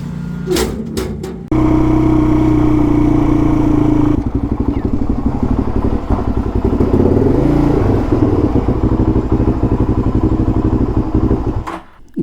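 A motorcycle engine with a stock exhaust and a small cap on the back idles with a loud, rapid, chugging pulse, briefly revving before cutting off at the end; close and dominant throughout.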